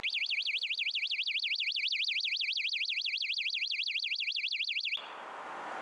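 A loud motorcycle anti-theft alarm wails in a fast, steady warbling pattern for about five seconds, then cuts off abruptly, leaving faint background hiss.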